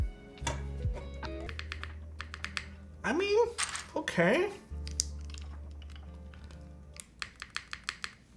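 Clicky keys on a Matrix Navi mechanical keyboard tapped in short bursts, with a faint stabilizer rattle on some presses; someone speaks briefly in the middle.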